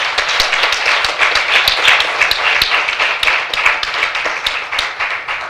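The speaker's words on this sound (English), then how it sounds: "A big applause, please." An audience at a town hall on sustainable urbanization breaks into brisk, lively applause, dense individual claps close and loud throughout.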